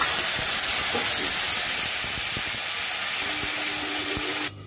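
Tomato paste hitting hot oil in a pan for a simple Bengali home lunch, giving a loud, steady broadband sizzle and steam hiss that holds throughout, then drops suddenly near the end.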